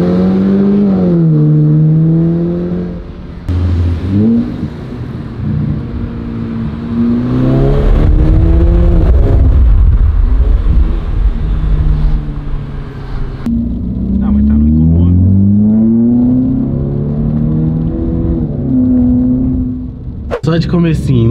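A Mercedes A200 engine with a new exhaust revs repeatedly, rising and falling in pitch, its throaty exhaust drone loud and close, with people talking at times.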